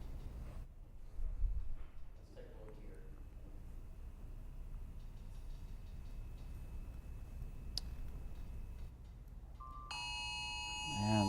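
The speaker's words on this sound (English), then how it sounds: "And that's my phone." A mobile phone sounds an emergency alert tone for a tornado warning in a TV weather studio, a bright electronic chime rising at the very end over quiet room noise and faint clicks.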